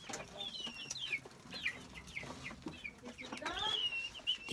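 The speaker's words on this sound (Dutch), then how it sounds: "Die kippen zijn aan het piepen omdat ze hun moeder hebben opgevreten." Chickens on a farm cluck and peep in a busy, continuous chorus, close at hand, with a faint voice in the background.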